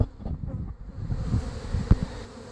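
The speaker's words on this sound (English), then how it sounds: "I'm not sure yet if I'm going to have to leave these bees here overnight." Honeybees swarm around a large top bar hive outdoors, a dense close buzzing hum that wavers in loudness, with a brief louder pass near the end.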